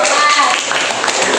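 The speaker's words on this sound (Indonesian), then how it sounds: "Aplaus." Students in a classroom applaud, giving a dense, steady patter of many hands clapping at once. The applause sounds close and fills the whole short moment, with children's voices mixed faintly into it.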